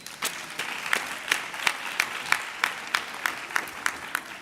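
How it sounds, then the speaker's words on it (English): Graduates at a university graduation ceremony applaud themselves, a fairly close crowd of clapping with a distinct steady rhythmic beat of unified claps roughly three per second over a softer wash. "Can you give yourself a round of applause?"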